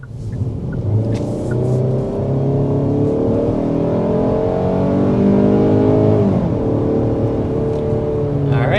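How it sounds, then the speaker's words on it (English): A 2024 Hyundai Sonata accelerates hard up to 60 mph. The engine note climbs steadily in a loud, continuous interior drone, with one brief dip like a gear change before it rises again. "accelerating up to 60 miles per hour in this 2024 Hyundai Sonata"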